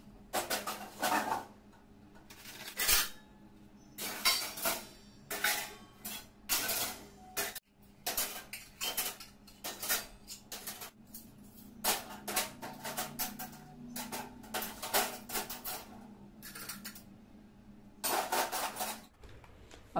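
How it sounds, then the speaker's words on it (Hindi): Washed dishes, pots and utensils are put away in a home kitchen, with intermittent clinks, clatters and knocks of metal and crockery coming in irregular bursts, close by and without talking. "ये सारे बर्तन मेरे धुल गए हैं, तो चलती हूँ सारे बर्तन में लगा देती हूँ।"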